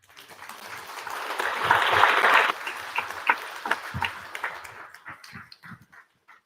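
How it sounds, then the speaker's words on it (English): An audience at a training programme launch applauds the Minister, a dense burst of clapping that swells, then thins into scattered individual claps and fades out. "I think Honorable Minister deserves a bigger round of applause"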